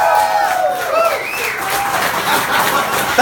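Audience at a comedy roast battle applauding and cheering, a loud crowd roar with clapping and whoops, people's voices mixed into the noise throughout.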